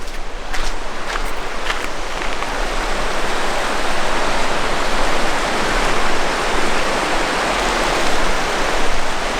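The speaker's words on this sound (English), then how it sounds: "Open the windows, back door, you hear the river." A river by a beach campsite near Aberfeldy flows as a steady broadband rush, like loud continuous water heard up close through an open back door, with a few faint knocks early on.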